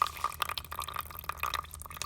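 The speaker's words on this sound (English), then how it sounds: "what's coming out of the oil filter housing is just water" Water dripping out of the oil filter housing of a waterlogged, rusted Yanmar boat engine, a quick irregular patter of close, small drips and trickles, with no talking.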